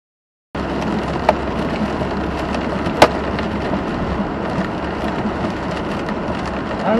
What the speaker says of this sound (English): I don't know if you can hear that hard thump or not, but that's hail.